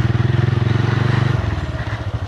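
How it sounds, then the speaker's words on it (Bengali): A motorcycle rides slowly along a rough, muddy dirt road in a village. The engine putters close and loud in a steady pulse, and partway through it shifts to a lower, bumpier chug. "খুব সাবধানতার সাথে গ্রাম অঞ্চলে বাইক চালাতে হয়"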